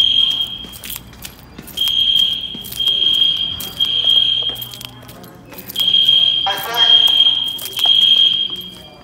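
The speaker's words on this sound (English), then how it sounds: "There's a horn strobe on the front of the building." A horn strobe fire alarm on the front of a building sounds during a test, blaring in repeated loud tonal bursts about a second long with short gaps, while people talk nearby.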